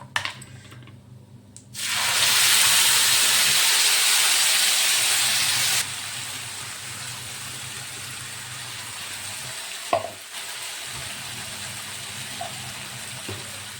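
Ground spices dropped into hot oil with whole cardamom for a soyabean kofta curry burst into a loud, steady sizzling hiss after a short quiet start, then settle into a softer continuous fry with a faint clink.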